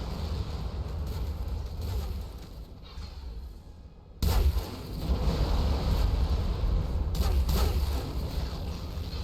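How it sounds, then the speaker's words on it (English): Artillery fire in the space battle game Between The Stars, a rumbling barrage of heavy booms over constant low roar, with a sharp louder blast midway, no speech. "maybe switching from rapid-fire weapons to artillery wasn't the best idea"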